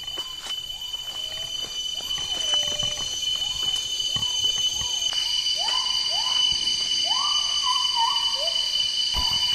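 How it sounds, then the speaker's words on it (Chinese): Forest birds call loudly in rising, repeated whooping phrases over a constant high cicada drone, with scattered chirps from other birds, on a jungle trail up Gunung Banang near Kluang, Malaysia. "我听到有知了，各种鸟叫"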